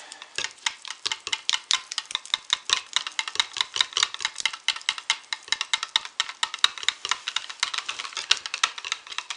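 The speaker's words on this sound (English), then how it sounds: "Stir it in." Fragrance is stirred into thin soap batter in a container, a rapid run of light clicking and tapping strokes repeating steadily throughout.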